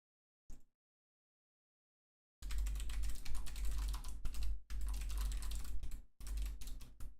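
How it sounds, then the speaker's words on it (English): A single faint tap, then after a silent gap a close, fast stream of computer keyboard keystrokes rattles on in bursts broken by brief pauses, with no one talking. "not going to tell you what I'm typing because it sounds stupid"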